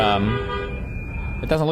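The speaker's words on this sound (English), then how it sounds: "Nobody else is honking. It's just her." A car horn honks in traffic, one long sustained blare, with a voice talking over it before a second short burst near the end.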